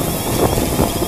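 Steady wind over water buffets the microphone during a DJI Phantom 3 Standard drone landing, a continuous broadband rush with gentle swells and no talk.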